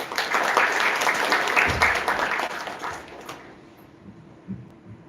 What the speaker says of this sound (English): So huge round of applause for him